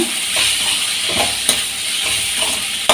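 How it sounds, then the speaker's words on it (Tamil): Onions sautéing with salt, asafoetida and turmeric in a pan, a steady soft sizzle with occasional stirring scrapes, close and continuous without talk. "கொஞ்சம் பெருங்காய பொடி, கொஞ்சம் மஞ்சள் பொடி, இதெல்லாமே சேர்த்து கொஞ்சம் வதக்கி விட்டுடலாங்க."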